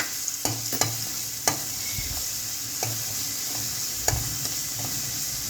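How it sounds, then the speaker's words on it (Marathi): Garlic paste frying in two big spoons of hot oil in a kadhai, a steady close hiss with a few sharp clinks of a spoon scraping the pan at irregular intervals. "त्यात आपली लसूणची पेस्ट घालून छान सोनेरी रंग येईपर्यंत परतून घेऊया"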